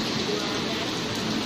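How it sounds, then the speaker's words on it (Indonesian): Heavy rain pours steadily over Martapura market, a dense, even hiss of falling water filling the whole moment, close and loud. "Tapi sehari ini kita diguyur hujan"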